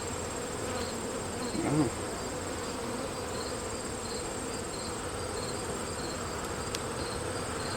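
Honeybees hum steadily around an opened hive as frames are pulled, loud and close, with a brief exclamation from a person early on.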